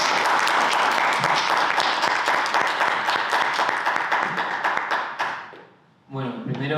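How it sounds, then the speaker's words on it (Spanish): Dense applause from an audience at a political talk on the role of the centre in a crisis, steady and loud for about five seconds, then fading out before a voice begins speaking. "Un aplauso también para..."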